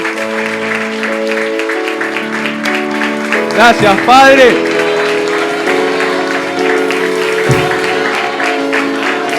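A church congregation claps during a Spanish-language Easter-week service, a steady patter of applause running under organ-like music and someone speaking.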